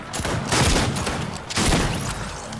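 Rapid bursts of gunfire in the video game Fortnite, two dense volleys of overlapping shots, loud and close with no talking.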